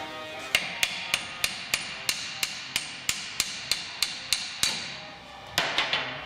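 Steady series of sharp metallic hammer taps on a brake caliper during a wheel hub replacement, about a dozen evenly spaced strikes, a brief pause, then a few more quick taps.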